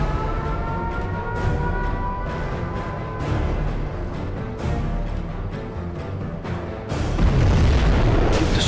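A nuclear missile strike in the video game C&C Generals Zero Hour, a dense stretch of deep booming blasts and rumbling that swells louder toward the end, with no talking.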